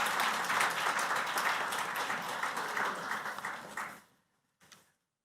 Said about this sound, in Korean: 다시 한번 환영의 박수 부탁드립니다.